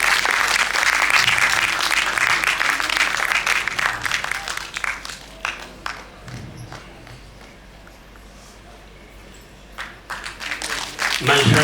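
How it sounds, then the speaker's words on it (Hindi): Loud, dense audience applause at a lamp lighting ceremony, a crowd clapping steadily for several seconds, thinning into scattered claps midway, then swelling again at the end. "जोरदार तालियों के साथ स्वागत कीजिए उनका।"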